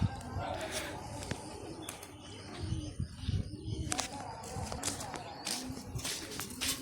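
Soft pigeon cooing murmurs low beneath a person talking, with scattered clicks and rustling around a loft.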